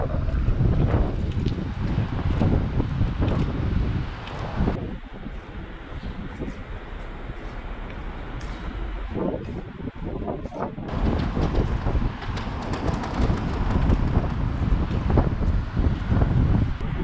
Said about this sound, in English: It's really windy outside.